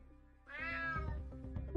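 A cat in the video game UnMetal lets out a single drawn-out meow that rises and then tails off over a quiet game background, close and clear with no talking over it.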